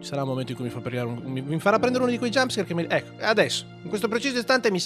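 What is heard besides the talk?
No everyday noises stand out.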